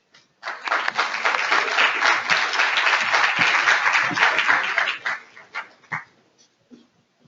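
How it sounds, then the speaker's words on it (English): Sustained applause from an audience fills the room, steady and fairly loud, then thins out into a few scattered claps before fading. "It's rare that I hear applause before I speak"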